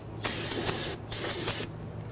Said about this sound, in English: Grab your spray solvent. We want to make sure that we get all of that brake fluid cleaned up.